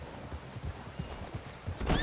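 Horse hooves clip-clop at an even trot on a dirt trail in Red Dead Redemption 2, the steady thuds close and moderately loud, with a brief whinny and rising noise near the end.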